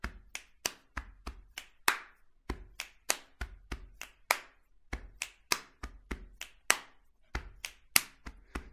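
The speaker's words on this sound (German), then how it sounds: "das spielt man zuerst am Körper, ja, Body Percussion" Body percussion pattern played on chest, finger snaps and hand claps: sharp, close slaps in a repeating rhythmic sequence, each hit crisp and separated by short silences, with no voices.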